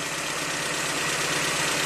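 A 1987 Toyota MR2 engine idling at roughly 1,000 RPM, a car with a no-start-when-hot fault, gives a steady, even hum with faint vibration and no other sounds.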